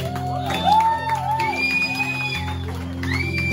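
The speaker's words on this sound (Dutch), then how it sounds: "Dus één keer een geweldige applaus." A crowd cheers, whoops and shouts for a band at an evening show, a steady roar of voices with rising calls and whistles throughout.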